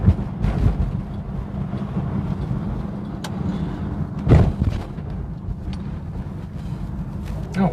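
A car drives along a road, heard from inside as a steady low rumble with a few thumps from bumps, while people talk over it.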